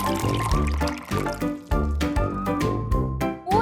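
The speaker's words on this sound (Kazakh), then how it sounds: "Содан кейін тең мөлшерде сироп қосамыз." Syrup is poured into a glass of water in a density experiment, giving a run of gurgling, trickling pours with a few short pauses and splashy restarts, heard close up and without talk.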